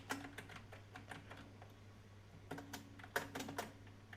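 Code is typed on a computer keyboard in quiet, close key clicks, with sparse taps in short irregular runs, a busier flurry late on, and a faint steady hum underneath, and no voice.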